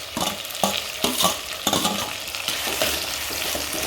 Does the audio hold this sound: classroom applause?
no